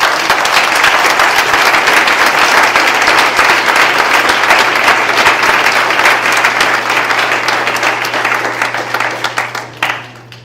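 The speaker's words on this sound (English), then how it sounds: "I really want to applaud all the kids that spoke this evening" Loud, sustained applause from a meeting audience fills the room and holds steady for several seconds before fading out at the end, with no one speaking over it.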